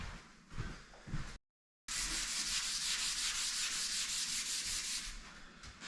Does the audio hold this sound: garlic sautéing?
no